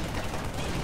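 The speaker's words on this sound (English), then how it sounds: "Chief, that gun's been firing non-stop." A mounted gun in the Halo 3 video game rattles out dense, unbroken automatic fire, a loud continuous burst with no gaps.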